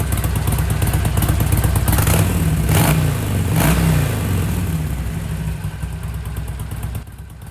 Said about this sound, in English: Once all this is done, we're ready to start the bike.